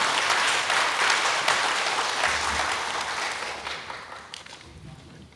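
A lecture audience at a history talk and panel discussion gives sustained applause, loud at first and gradually thinning out over several seconds.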